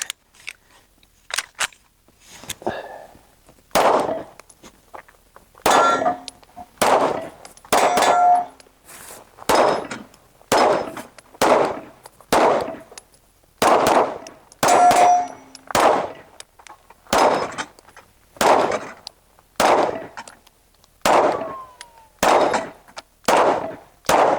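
A Sig Sauer P211 GTO pistol fires about twenty loud, sharp shots at a steady outdoor pace, many followed by the bright metallic ring of steel targets being hit.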